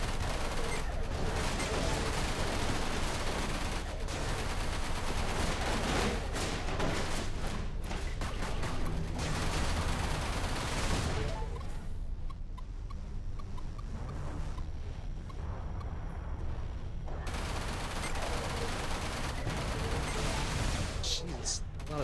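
Turret fire in the space combat game Everspace, a dense, sustained barrage of rapid shots and explosions that briefly thins out before returning at full intensity.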